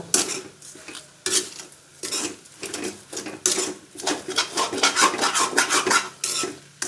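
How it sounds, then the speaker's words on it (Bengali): Vermicelli is stirred with sprinkled sugar in a pan, a series of close, rhythmic scraping and rasping strokes of a spoon across the metal, with no one speaking. "চিনি ছিটিয়ে আমি একইভাবে নাড়তে থাকবো"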